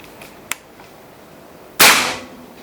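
Single sharp crack of a PCP Goblin air rifle firing a 9.56-grain GS pellet, loud and close, with a brief decaying tail after a faint earlier click.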